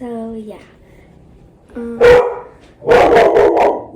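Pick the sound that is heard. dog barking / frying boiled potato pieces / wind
dog barking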